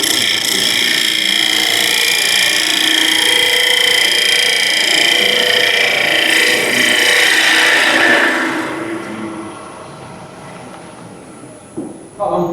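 Gouge cutting wood on a lathe at a woodturners' club demonstration: a steady, loud broadband shaving hiss for about eight seconds, then fading to a quieter rumble with a couple of brief bumps at the end.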